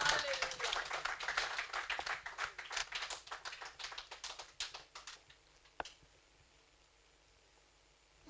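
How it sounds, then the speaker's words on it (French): A church congregation claps in a brief burst of applause during a sermon, sharp irregular hand claps that thin out and stop after a few seconds, leaving near silence. "Applaudissons pour la gloire de Dieu."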